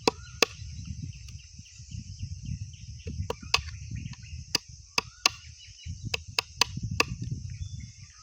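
Coconut shell being cut into two pieces, sharp scattered cracks and clicks over a soft low scraping, with a faint steady insect-like hiss behind.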